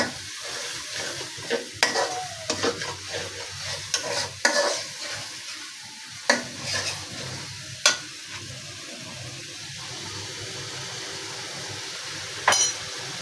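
Ground spices with garlic, ginger and cumin stir-fried with a splash of water in a pan for a chicken curry, a steady close sizzle broken by repeated scraping stirs and occasional utensil clinks against the pan.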